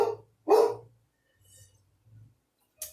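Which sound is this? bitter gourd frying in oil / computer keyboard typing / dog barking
dog barking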